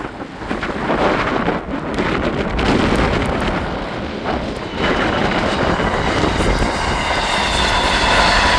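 A train rumbles steadily past at close range, a continuous loud roar with wind buffeting the microphone and faint rhythmic clatter of the wheels.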